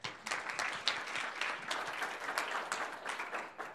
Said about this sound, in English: let's welcome Andrea with a big clap.